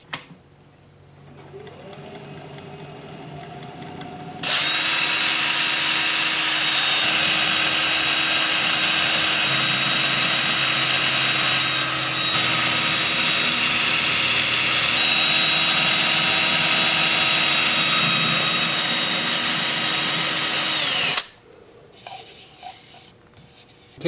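Spalted maple bowl spinning on a wood lathe as the tenon is cut away, a steady loud hiss and scrape of the tool running about sixteen seconds after a quiet start, then stopping abruptly.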